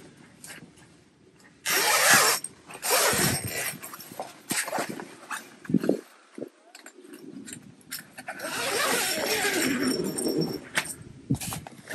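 A tent window zipper on a Super Pacific Switchback X1 truck camper is pulled open in a few quick rasping bursts, with rustling fabric and handling noises around it, close to the microphone.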